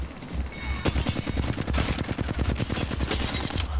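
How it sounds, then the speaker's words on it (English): Rapid automatic gunfire in the battle royale shooter Apex Legends, a loud close burst of evenly spaced shots rattling for several seconds with a few louder single cracks mixed in. "what was I shooting at there?"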